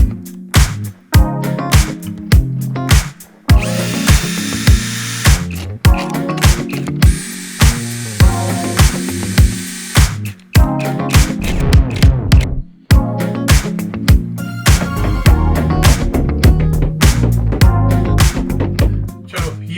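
Power drill driving screws into a wooden window frame inside a camper van, loud repeated bursts of whirring and ratcheting with short pauses between, several long sustained runs, no talking.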